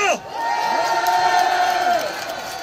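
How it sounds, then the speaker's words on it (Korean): A crowd at a university alumni political rally cheers loudly and close, with overlapping shouts and whoops rising and sustaining for a couple of seconds. "여러분, 시립대인들입니다. 박수 한번 주십시오."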